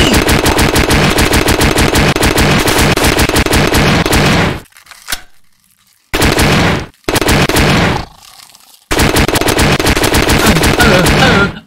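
AK rifle fired in the horror shooter Puppet Combo Spiders: long, loud, rapid automatic bursts close up, stopping briefly twice before firing resumes, with a voice heard faintly during the gaps.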